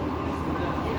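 Steady low rumble of a cable-hauled tram riding downhill at Victoria Peak, Hong Kong, continuous mechanical hum with faint rattling, close and even throughout.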